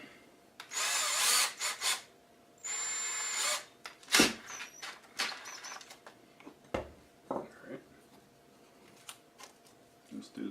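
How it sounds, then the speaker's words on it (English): A power drill bores holes in a wooden skull mount kit board, several loud whirring bursts of a few seconds each, followed by short clicks and handling sounds of the work. "let me go ahead and get a bit in my drill here"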